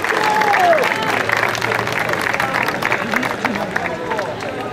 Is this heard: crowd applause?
yes